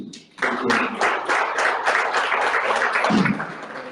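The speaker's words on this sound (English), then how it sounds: "I think they did a big round of applause" A crowd applauds steadily, dense clapping rising quickly and holding strong for several seconds, with no talking over it.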